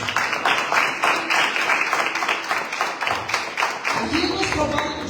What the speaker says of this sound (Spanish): Denle un fuerte aplauso a la palabra de Dios.